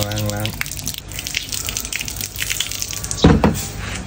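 Eggs are washed under running tap water, a steady close hiss and splash with a brief voice at the start and a louder gush of water near the end.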